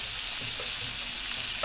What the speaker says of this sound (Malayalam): ഇനി നമുക്കതെല്ലാം കൂടി ഒന്ന് ഇളക്കി ചേർക്കാം. ഇളക്കി നല്ലോണം വഴറ്റിയെടുക്കണം.